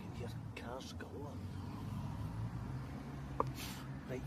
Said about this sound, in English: So you can hear cars galore.